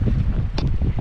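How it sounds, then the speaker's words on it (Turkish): Wind blows hard over an island by the water, a dense continuous roar buffeting the microphone with no pause. "Bir tık rüzgarımız var."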